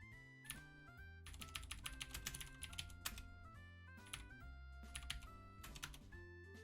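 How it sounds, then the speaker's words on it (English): Keystrokes on a computer keyboard run in quick irregular bursts, quiet and close, under steady background music with no talking. "I'm typing."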